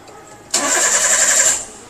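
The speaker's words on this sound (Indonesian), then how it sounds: "Izin nyalakan mesin." A Toyota Avanza engine with a K3-VE motor cranks and catches in a vocational automotive competition setting, giving a sudden loud start after a quiet moment, then a brief steady run before fading down.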